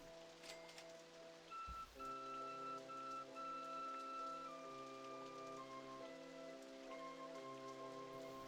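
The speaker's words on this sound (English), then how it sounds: "there's a lot of rain going on now." Rain falls in the PC game RollerCoaster Tycoon, a soft, even patter that continues for the whole stretch beneath the game's steady sustained background tones.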